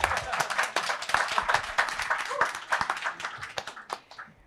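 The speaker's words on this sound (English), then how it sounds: "you can clap in between" An audience at a panel event claps briskly in a burst of close, irregular hand claps that thin out and fade toward the end.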